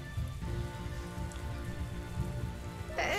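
Steady rain patters in the video game Hyrule Warriors: Age of Calamity, a soft continuous hiss of falling drops with a low rumble underneath, quiet and unbroken, ending with a brief brighter sound.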